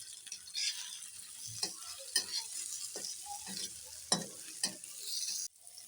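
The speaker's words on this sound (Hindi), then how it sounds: "आलू को तकरीबन हमें भूनते हुए 3 मिनट हो चुके हैं।" Potatoes and tomatoes stir-fried in a pan for sabudana khichdi, a soft sizzle broken by repeated spoon scrapes and taps against the pan, fairly quiet and close.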